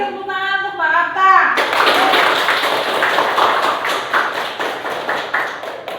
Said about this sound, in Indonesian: Kasih tepuk tangan untuk Mbak Akta.